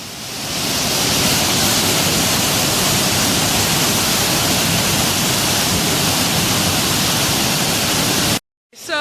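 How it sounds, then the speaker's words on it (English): Waterfall at Avalanche Lake in Glacier National Park, a loud, steady broadband roar of rushing water close by that holds constant for several seconds before cutting off abruptly near the end. "especially right after it comes over those falls"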